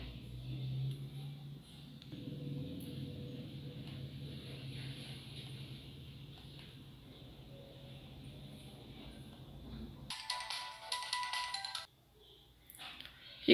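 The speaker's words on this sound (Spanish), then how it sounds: "vamos a tocar el botón de encendido por unos segundos para" Huawei Y7 smartphone restarting, its startup tone bursting out briefly and moderately loud near the end after a long stretch of quiet room hum.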